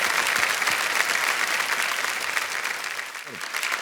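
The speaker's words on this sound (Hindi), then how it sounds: "तालियों के साथ हम आपका स्वागत करते हैं" Studio audience applause on the KBC quiz show set, a loud, sustained wash of clapping from a large crowd that runs steadily throughout, with a brief voice breaking through near the end.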